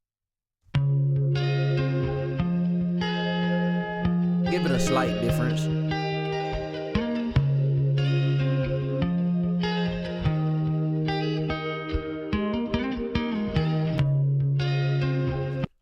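A gritty, distorted synth using a wide overdrive preset plays a wide, buzzy melody with sustained notes and swelling effects, while a voice speaks briefly over it.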